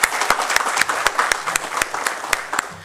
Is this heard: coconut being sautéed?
no